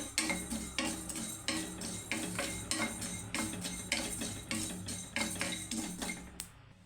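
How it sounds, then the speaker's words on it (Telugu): About ten black peppercorns fry in a pan for a chicken fry, heard as steady, evenly spaced metallic stirring scrapes over a soft sizzle, close up and with no voices. "మిరియాలను అయితే వేసుకుంటున్నానండి వేయించుకోవాలండి"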